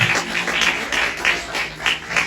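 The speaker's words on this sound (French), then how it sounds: "applaudissons quand même, c'est là" An audience applauds in a steady wash of clapping, with rhythmic swells of claps running through the short stretch, no speech heard.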